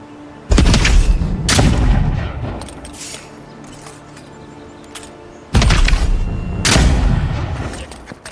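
Heavy rifle shots in the game Avowed, two pairs of loud, booming reports with long rumbling tails, each pair separated by a few seconds of quiet, close and with no talking.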